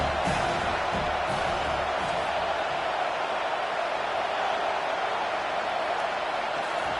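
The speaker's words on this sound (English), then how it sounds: "Third down, and this crowd is tearing the lid off this place." A stadium crowd roars continuously through a third-down play in the college football game NCAA 25, a dense, steady wall of cheering with no individual voices standing out.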